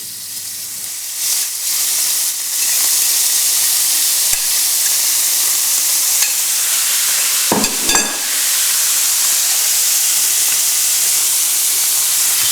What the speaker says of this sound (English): So I'm going to start with a hot pan. Let's just put the mince in.